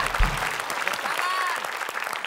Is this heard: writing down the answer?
no